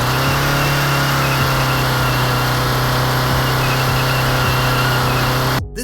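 A sports car engine in the mobile drifting game Project Drift 2.0 drones steadily at high revs, loud and close, with a constant buzzing tone that cuts off abruptly at the end.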